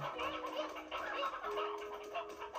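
Chickens in the video game Slime Rancher give faint, busy clucking and gobbling calls that overlap continuously and sound quiet and a little distant.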